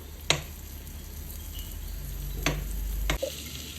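Butter sizzling in a pan over low heat for a carbonara sauce, a steady soft frying hiss with a few sharp clicks of a utensil against the pan.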